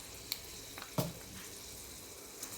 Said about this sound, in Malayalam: നമ്മുടെ എണ്ണ ചൂടായിട്ടുണ്ട്. അതിലേക്ക് അല്പം ഉലുവ ചേർത്ത് കൊടുക്കാം.